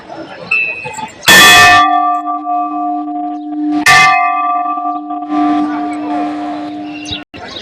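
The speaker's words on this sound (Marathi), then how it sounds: "तिथं केवढा घंटा आहे बघा." A large bell at a Mahadev temple shrine strikes twice, each clang loud and close with a long ringing tone that hangs on between strikes and fades under light background noise.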